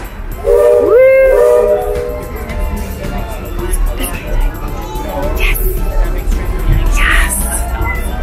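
A steam train whistle sounds near the start over rumbling ride noise at Magic Kingdom, followed by excited voices and cheering, with a hiss of steam later.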